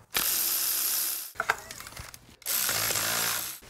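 A ratchet spins out 10 millimeter bolts from the timing cover of a 2004-2009 Toyota Prius engine. Two long bursts of rapid, close clicking are separated by a quieter stretch of metallic handling and clinks.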